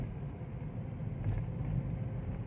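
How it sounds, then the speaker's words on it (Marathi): Road traffic in Shivajinagar, Pune: a steady, dense rumble of passing vehicles fills the clip at an even level, with no voices. "आता ट्रॅफिक चालू झालेलं आहे"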